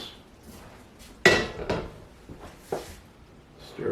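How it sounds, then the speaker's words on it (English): A utensil clanks against a pot while vegan gumbo broth is stirred, a sharp metallic knock followed by softer scrapes and a few lighter taps, close and fairly quiet. "Stir this up really good here."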